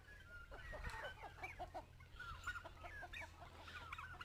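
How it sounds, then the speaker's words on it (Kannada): Native country chickens cluck and chatter on a poultry farm, a busy overlapping flock of short calls heard fairly softly without talk. "ನೋಡಿ ನಮ್ಮ ನಾಟಿ ಕೋಳಿ."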